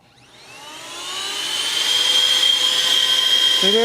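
Compressed air blasting onto a dusty gaming laptop cooling fan, a loud steady hiss that swells over the first two seconds, with a high whine from the spinning fan riding on top and a brief knock at the end.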